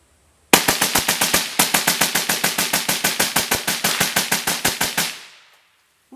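A Desert Tech WLVRN rifle fires X-Tac 55 grain full metal jacket rounds in one rapid, even string of about thirty loud sharp shots, close and unbroken, ending abruptly before a faint tail.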